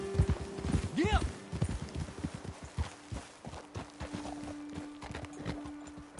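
Horses' hooves clip-clop in the Red Dead Redemption 2 video game, a steady close walking rhythm of hoofbeats with a brief whinny early on and a low hum beneath.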